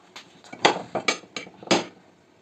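Cauliflower pieces dropped into an oiled baking dish, landing in several distinct knocks and clatters against the dish, close and fairly crisp, with no talking.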